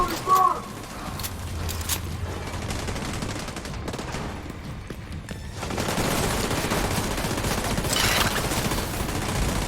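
Gunfire from weapons in The Division 2 during a raid, sustained dense bursts and rattling shots running throughout, with voices talking over the action.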